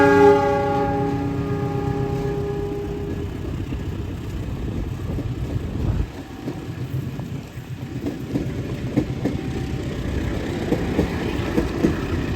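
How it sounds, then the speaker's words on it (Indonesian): Jenggala passenger train pulling out of Wonokromo station, opening with a loud horn blast, then a rolling rumble of wheels and clattering rail joints that continues steadily. "kereta api Jenggala berangkat kembali dari stasiun Wonokromo menuju ke arah Indro"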